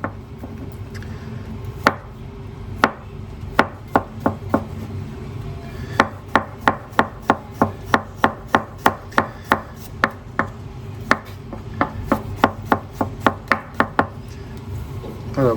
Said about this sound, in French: moi je fais comme ça, je le hache en lamelles